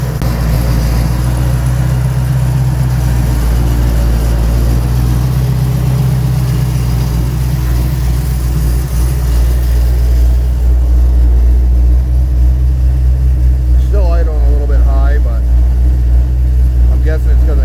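A 1972 Chevrolet Nova with a swapped-in LS V8 idling, a loud steady rumble up close for the whole stretch, with someone talking over it toward the end.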